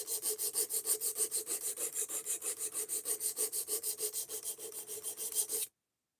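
A knife of 14C steel is stroked rhythmically across a sharpening stone, a steady train of about thirty even rasping passes, close and clear, ending abruptly.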